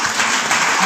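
A crowd at a Christian gathering applauds briefly, a dense burst of close hand claps that stays at an even level for about a second.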